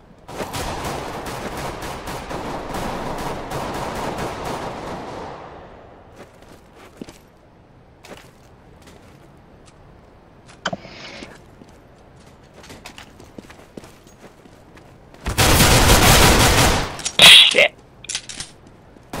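Gunfire in Counter-Strike: Global Offensive, a sustained burst of automatic fire at the start, then scattered clicks and a loud dense volley near the end, with short sharp shots after it.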